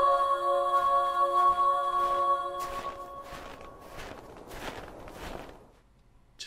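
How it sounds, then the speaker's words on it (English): Footsteps crunch through snow in a steady walking rhythm, several close crunching steps following a fading sustained musical tone, with no talking. "Just walking in the snow sounds nice."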